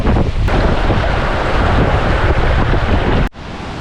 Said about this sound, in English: You know it's windy when you got whitecaps on a lake.